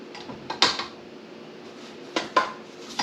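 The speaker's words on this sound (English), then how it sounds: "I'm just going to scrape down the" A spatula scrapes around a mixing bowl of sugar-free chocolate chip cookie dough, giving a few short, close clanks and scrapes in two brief bursts.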